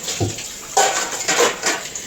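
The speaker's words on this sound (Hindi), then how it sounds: "मैं इसलिए बर्तन धो रही हूँ" Pots, pans and cutlery clatter and clink under running tap water at a home kitchen sink, with several sharp metallic knocks over a steady rush of water, close and loud, with no talking.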